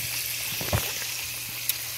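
Chicken wings frying in a pan give a steady close sizzle with crackling oil and a couple of small pops, with no voices.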